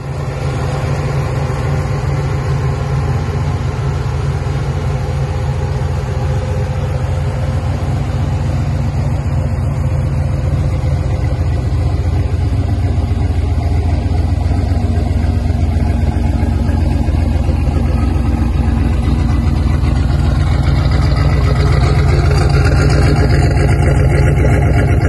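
Turbocharged 363 Foxbody Mustang engine running steadily at a loud, close, even idle-like drone with no speech, holding a constant rumble for the whole stretch.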